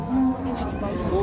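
A dairy cow lows once, a full sustained moo close by at the Raniganj cattle market in Dinajpur, with crowd noise faintly behind.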